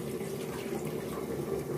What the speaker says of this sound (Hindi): मूंग दाल को पकने के लिए जितना पानी की आवश्यकता है आप उतना पानी डालें।